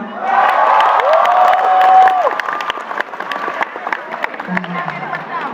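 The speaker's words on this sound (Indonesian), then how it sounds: "boleh minta tepuk tangan?" A live stand-up comedy crowd claps and cheers loudly, with whoops and shouts riding over dense applause that peaks early, then thins into scattered clapping and chatter as it fades.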